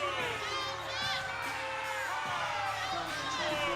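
Home crowd at a women's basketball game between Utah Tech and ACU loudly protesting a block call, a sustained wash of shouts, whoops and jeers filling the arena, with a commentator's voice mixed in.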